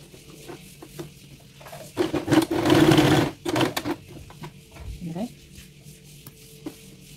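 A sewing machine runs in a short, fast burst of stitching as a trouser pocket seam is locked with a few back stitches, close and loud, framed by quieter handling sounds before and after.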